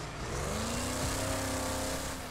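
A race car engine roars in the demolition racing video game Wreckfest, a sustained, revving motor drone with shifting pitch and a hint of tire noise, steady and close throughout.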